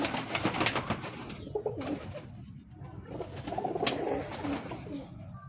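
Royal pigeons of an original Teddy breeder pair coo softly in repeated low, throaty bursts, fairly faint and close, against quiet background noise.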